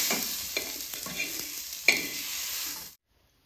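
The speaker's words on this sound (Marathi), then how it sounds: "टोमॅटो आणि कांदा छान मस्त भाजी तळून घेतले तेलामध्ये" Tomato and onion sizzle in hot oil, with steady frying hiss and a few stirring scrapes and clinks, then the sound cuts off abruptly.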